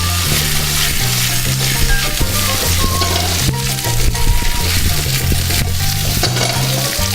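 Pasta sauce sizzles loudly in a hot pan as it is tossed, with a steady crackling fry, scraping stirs and light clinks of the pan, over soft background music.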